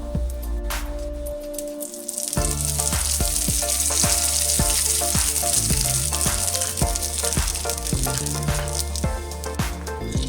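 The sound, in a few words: spring roll sheet pieces frying in hot oil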